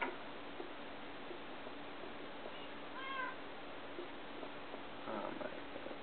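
A cat meows a few times in the Minecraft video game, short rising calls near the middle of the clip over a quiet steady game background, with a fainter chirp toward the end and no talking.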